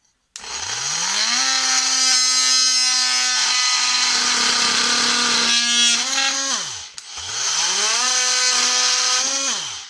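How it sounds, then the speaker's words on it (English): A Ryobi 18-volt cordless oscillating multi-tool cutting off an inside wall corner, whining loudly and steadily as it spins up, dipping briefly, then running again in a second sustained cut. "what I'm going to be doing is taking that corner kind of off with the multi-tool"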